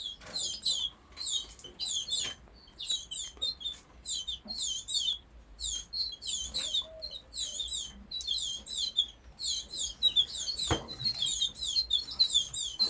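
Young canaries and canary-goldfinch mule chicks chirp in close, bright, rapid bursts. The calls come in clusters with short pauses between them and nobody speaks.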